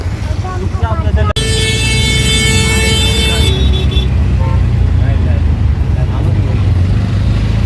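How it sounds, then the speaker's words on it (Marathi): A loud, sustained vehicle horn blares for about two seconds over a constant rumble of idling engines in a Goa highway traffic jam near Sangameshwar market, with voices faintly in the background. "गोवा हायवे पूर्ण जाम काय जाम ट्रॅफिक लागला आहे"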